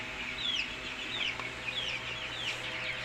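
Young broiler chickens cluck in repeated short, chirpy calls about every half second over a low steady farm hum, with no talking.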